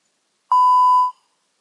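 A single clean electronic beep from FreePower strength-training software, signalling a detected static hold, sounding for about half a second in otherwise silent surroundings.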